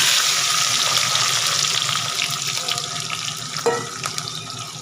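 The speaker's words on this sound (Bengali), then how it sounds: "এবার এই তেলের মধ্যে আমি দিয়ে দেবো এই যে পেঁয়াজ, ক্যাপসিকাম আর এই কাঁচা লঙ্কা" Onion, capsicum and green chilli hit hot oil after fried chicken, giving a loud, dense, steady sizzle that eases slightly toward the end, with a small clink near the close.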